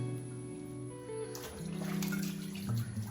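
Hot tap water runs steadily while a glass jar is cleaned of label glue, a continuous close splashing wash with some clinks and shifts in flow partway through.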